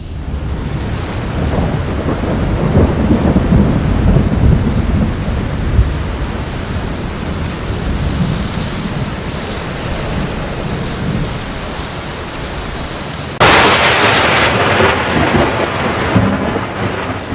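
A violent thunderstorm in the Cevennes, with steady heavy rain hissing throughout and deep rolling thunder rumbling underneath, capped by a sudden loud, close crack of thunder late on that lingers in the downpour.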